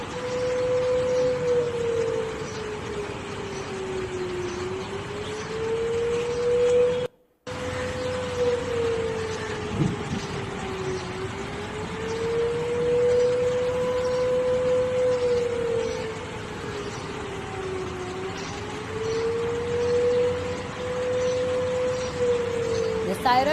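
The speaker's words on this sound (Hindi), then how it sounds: "सायरन लगातार पाकिस्तान के अलग अलग हिस्सों में बज रहे हैं" An air-raid siren wails across Pakistan, its long tone slowly rising and falling in repeated cycles, steady and moderately loud over a background hiss, briefly cut out partway through.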